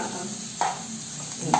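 Onions fry in a pan for curry biryani, a steady sizzle with a couple of brief stirring scrapes, close up and with no talking.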